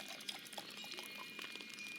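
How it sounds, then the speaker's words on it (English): Water pours steadily onto a backyard plant in Second Life, a faint continuous splashing trickle that runs unbroken throughout. "Give it some water."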